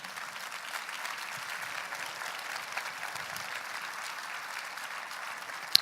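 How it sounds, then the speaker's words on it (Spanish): A church congregation claps together in steady, even applause, moderately faint and continuous throughout without any voices on top. "Dale un aplauso de gloria al Señor."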